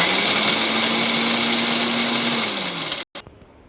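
Small mixie grinder blending biscuits: a loud, steady motor whir that slows and cuts off near the three-second mark, followed by a brief clatter and quiet.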